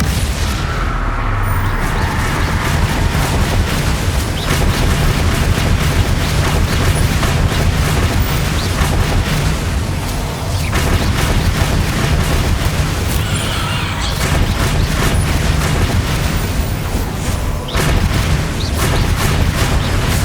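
Dense, continuous booming blasts from the Bombarda and Confringo explosion spells in the video game Hogwarts Legacy, loud and sustained with repeated heavy impacts throughout.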